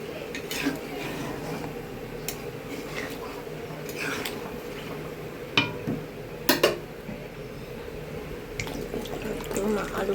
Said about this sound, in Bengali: পাতলা ঝোল করবো তাই জলটা একটু বেশি দেবো।